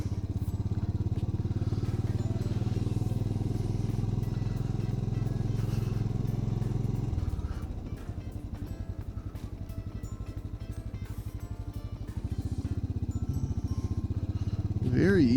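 Royal Enfield Bullet 500 motorcycle engine running with a steady low thump, loud and close, easing off midway then picking back up, with some clatter and a little wind.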